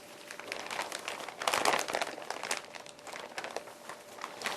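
Plastic wrap crinkles and rustles as shortbread cookie dough is pressed into a single lump by hand, a close, continuous crackling with louder bursts as the plastic is squeezed.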